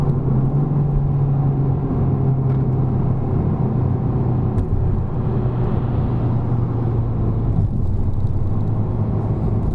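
A Honda Civic Type R cruising in third gear at about 3000 RPM gives a steady, even engine drone with a low hum and road rumble that holds level throughout, with no voices.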